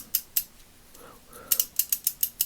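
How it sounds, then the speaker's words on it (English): A vintage NAPA NB56 3/8-inch drive flex ratchet clicks up close: two clicks, a short soft mechanical shuffle, then a quick run of about seven crisp, evenly spaced ratcheting clicks. "Yes, it's ratcheting."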